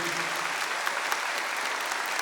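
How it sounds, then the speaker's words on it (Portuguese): Steady applause from an audience, a dense even patter of clapping hands that holds at one level throughout, with no voices rising above it. "Monsenhor Jonas Abib, a quem eu gostaria que você aplaudisse agora, o nosso fundador"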